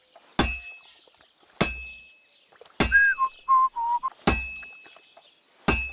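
A sword blade is hammered on an anvil at a smithy in the video game Kingdom Come: Deliverance 2. Five loud, ringing metal strikes land about every second and a half, with brief whistling tones between them and no talking.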